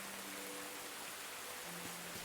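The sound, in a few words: rain in the video game Tales of the Shire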